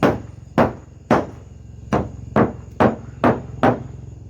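Block of wood hammered against the dented metal roof of a car, eight evenly spaced solid thumps, each followed by a short ringing buzz, close and moderately loud.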